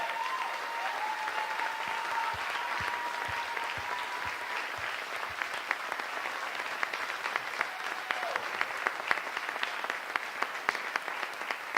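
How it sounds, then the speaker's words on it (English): An audience at a Hope Over Heroin event applauds for the families: sustained, dense clapping with a few scattered cheers, steady and fairly loud throughout, with no speech over it. "can we cheer for the families as much as we're cheering for them?"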